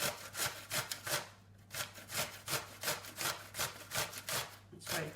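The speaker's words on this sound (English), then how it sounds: "I'm going to grate the cucumber next." A cucumber rubbed against a hand grater in a home kitchen gives steady, rhythmic rasping strokes, about two per second, close by and fairly quiet, with no talking.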